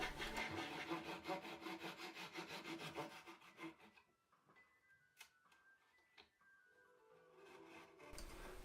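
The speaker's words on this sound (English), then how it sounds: "Mark the excess strip lengths running past station number 11 and trim with a saw" A hand saw trims excess wooden hull strips on a Baidarka kayak build, rapid rhythmic back-and-forth rasping strokes close by, then stopping, followed by a few light taps and handling knocks.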